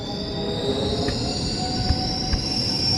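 A train rolls steadily on the Kadapa to Chennai route, its wheels squealing in sustained high-pitched tones over a continuous rumble of rail noise, with a couple of brief louder clanks near the end.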